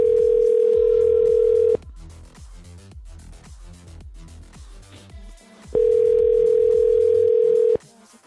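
An outgoing telephone call rings back with two long, steady tones separated by a quiet gap with faint background sounds, loud and close on the line.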